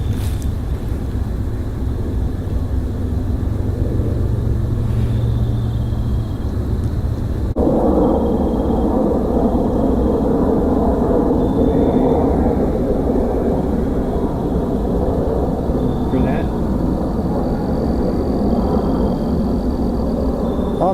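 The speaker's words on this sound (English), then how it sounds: "just as a plane flew over" A steady low roar of an airplane passing overhead at night, continuous and broad, filling the background with no other clear sounds.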